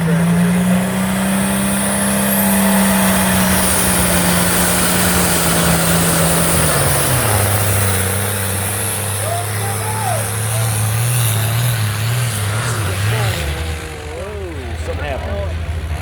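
A John Deere tractor competing in the 14,000-pound Hot Farm class at a tractor pull roars loudly and steadily, its engine note dropping in steps as the run goes on, with crowd and announcer sounds underneath.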